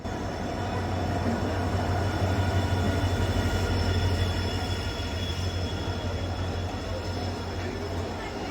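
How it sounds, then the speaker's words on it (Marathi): A long-distance express train pulls into Kalyan station, a steady loud rumble of wheels and carriages with a low hum that swells slightly and holds throughout, no speech. "अखेर काही वेळाने ट्रेन कल्याणला आली"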